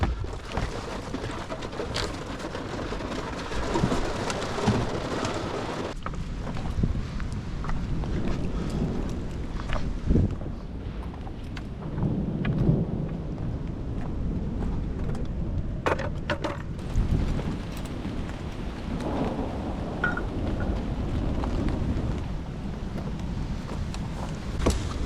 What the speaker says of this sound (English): Cool part is a storm rolled in.